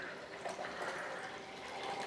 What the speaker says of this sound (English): I'm going to actually refill with, again, some clean, just room temperature water.